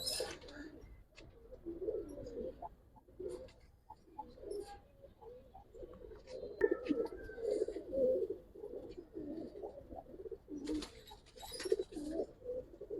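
Several Giribaz pigeons coo steadily and continuously nearby, overlapping throaty rolling calls with occasional faint rustles and flutters.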